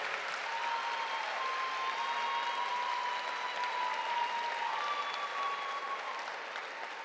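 Audience applause at a Cass Tech Class of 2021 graduation ceremony, a steady, dense wash of clapping from a large crowd that holds level for about seven seconds with no talking over it.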